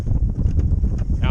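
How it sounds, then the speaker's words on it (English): Cold January wind gusting across an open field waterway ahead of a winter storm, a loud rough buffeting that batters the microphone, with a voice speaking over it. "it is windy and freezing. There is a winter storm coming in"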